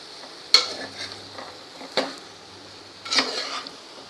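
Stuffed brinjals are tossed in masala and oil in a pan, with three distinct spoon scrapes about a second apart over a faint, steady sizzle, close by and fairly quiet.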